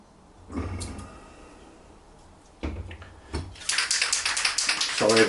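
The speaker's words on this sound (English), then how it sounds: "Sorry about the noise, keep shaking your paint." A spray can rattling as it is shaken, a rapid metallic clatter building near the end after a few duller knocks and thumps.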